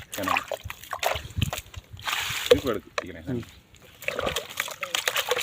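A catfish thrashes and splashes in shallow water, with irregular sloshing bursts heard beneath people talking nearby.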